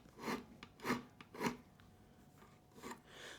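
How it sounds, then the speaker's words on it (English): Fret end dressing file rasping along guitar fret ends, three distinct close strokes in quick rhythm followed by a softer fourth stroke after a pause, faint and alone. "So out comes the crimson fret end dressing file."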